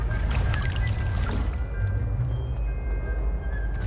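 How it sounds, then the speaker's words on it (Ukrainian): A fountain in the video game Hogwarts Legacy gurgles and bubbles steadily, a continuous wet sloshing that stays fairly loud and near throughout, with no voices. "Щось булькає. А, це ж фонтан"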